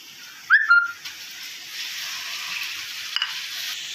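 Tomatoes added to softened onions frying in a pan for a capsicum thokku, with a faint, steady sizzle after a brief clatter and a short squeak near the start.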